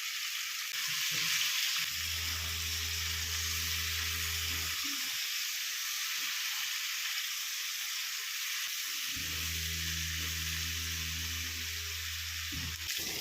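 Chopped onion and garlic frying with ivy gourd in a hot pan, a constant sizzle joined by two long stretches of a low humming tone, with small stirring knocks between.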